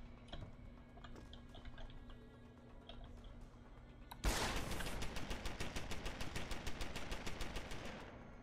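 Pistol fire in Deus Ex: Human Revolution bursts in after a quiet stretch, a loud, rapid, evenly spaced string of sharp shots running steadily to the end.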